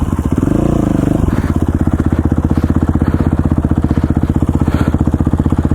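A motorcycle engine runs loud and close on a hill race course in Idaho, a rapid steady thrumming with a brief rev near the start, then holding an even throttle throughout.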